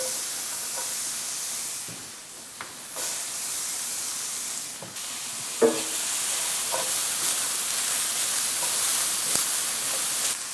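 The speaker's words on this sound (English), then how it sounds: "That's when we'll go ahead and add our diced onions" Diced onions sizzle in a hot pan over medium heat, a steady close frying hiss broken by a few light clinks and stirring taps.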